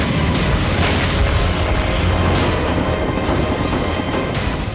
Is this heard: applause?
no